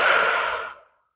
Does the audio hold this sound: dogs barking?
no